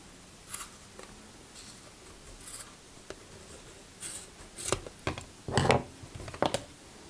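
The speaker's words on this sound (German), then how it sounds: "Dann nehmt ihr euch die Schere dazu und dann könnt ihr auf der anderen Seite das Ganze von der Pappe lösen." Scissors snip through wool yarn wound on a piece of cardboard while making a tassel, a few sharp, crisp cuts scattered among soft rustling.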